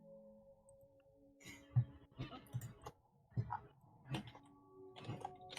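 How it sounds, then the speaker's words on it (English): Light, irregular clicking like keystrokes on a computer keyboard during a tabletop role-playing game session, a few soft taps spread across a quiet background. "I can hear someone typing"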